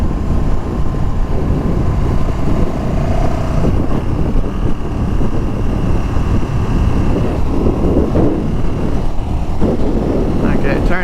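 A 2019 KTM 1290 Super Duke R accelerating on the road, a loud steady engine drone mixed with heavy wind rush, with a rider talking over it throughout.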